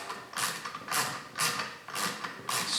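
A socket ratchet snugging down bolts on a Mercruiser Alpha One water pump, close, dry clicking strokes repeating about every half second, with no talking.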